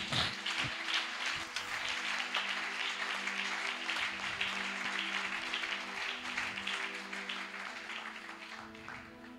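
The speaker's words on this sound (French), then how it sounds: "On peut acclamer très fort le Seigneur." A church congregation at a French-language sermon bursts into sustained applause and cheering for the Lord, a steady wash of many hands clapping that fades slightly toward the end.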